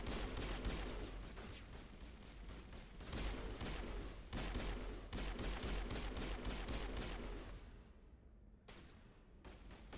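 Rapid, dense video game gunfire crackles nearly nonstop in loud overlapping bursts, then thins and drops away in the last couple of seconds, leaving a few isolated shots.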